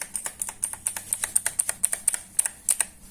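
Typing on a budget mechanical keyboard bought from Checkers, with a braided cable and plastic wrist rest: a steady run of crisp, close clicky keystrokes in an uneven rhythm, with no voices.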